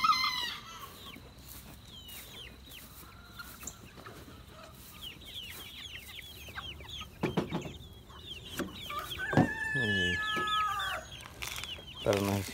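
Chickens and hens in a farmyard coop cluck steadily throughout, with scattered sharper calls and a rooster-like crow mixed in, moderately near with ambient farm noise and no talk.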